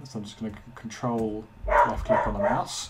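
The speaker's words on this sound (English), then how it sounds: "You can probably hear my puppy in the background." A puppy barks and yips several times, fairly close, under and between a person talking indoors.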